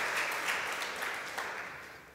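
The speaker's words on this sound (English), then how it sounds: "Big applause for our panel," Conference audience clapping for a panel on sustainability in digital communication, a moderate wash of applause that fades gradually over a couple of seconds, with no talk.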